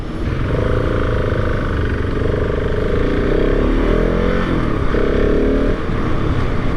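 A 2023 KTM 690 SMC R street motorcycle's single-cylinder engine pulls hard under acceleration, a loud, steady rising drone with shifting pitch as it climbs through gears, close and continuous with no speech.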